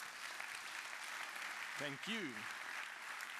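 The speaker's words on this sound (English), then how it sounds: "can we give one more round of applause here?" Conference audience at the TBEX Europe 2024 opening keynote gives a round of applause. Soft, distant clapping hisses steadily while someone briefly speaks over it.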